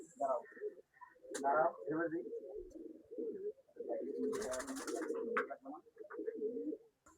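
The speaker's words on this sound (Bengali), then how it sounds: "এই যে কাজ করা একটা মাদি কবুতর" A female pigeon coos in low, rolling, repeated phrases close by in a loft or coop, with other birds calling and a voice talking over parts of it.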